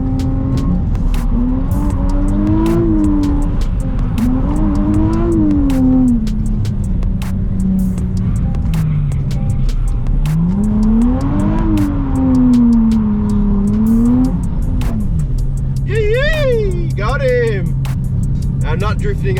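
A new Nissan Z drifts on a track, its engine revving up and down in long swells while the tires squeal steadily and loudly. Pitched skid chirps come near the end.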